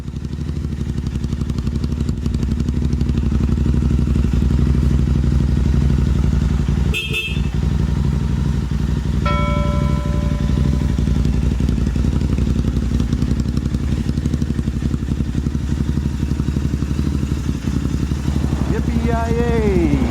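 A Honda CRF 300 motorcycle drones along steadily with a loud, constant engine rumble throughout, broken by a brief clatter and a couple of tonal beeps.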